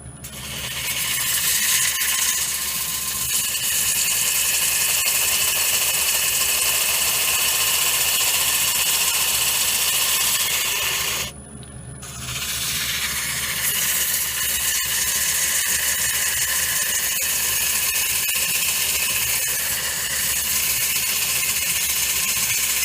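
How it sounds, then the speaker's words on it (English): A bowl sander works inside a wooden bowl, giving a steady, loud whirring grind that runs throughout with a short break near the middle, and no voices. "sanding inside a bowl to get rid of those marks"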